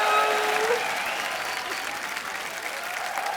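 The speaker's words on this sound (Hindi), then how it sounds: "जोरदार तालियां सोनाक्षी और शिवानी के लिए।" Audience applause breaks out at a live Hindi stage show for two guests, Sonakshi and Shivani, a dense steady clapping from a crowd that stays loud throughout, with a faint voice briefly over it at the start.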